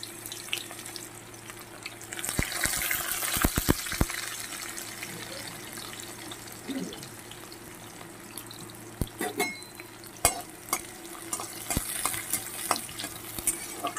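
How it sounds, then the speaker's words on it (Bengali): A large onion fries in oil with a low, fairly quiet sizzle, broken by scattered clinks and scraping knocks of a utensil against the pan. "পেঁয়াজটা আমি 1 মিনিট ভেজে নেব"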